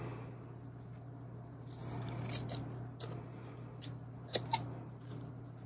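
Scissors snip paper planner stickers in a few quiet, sharp cuts against a low background hum, with two crisp clicks near the end.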